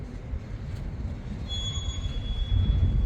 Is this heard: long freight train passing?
yes